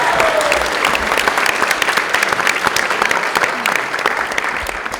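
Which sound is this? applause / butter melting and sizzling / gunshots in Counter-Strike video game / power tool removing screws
applause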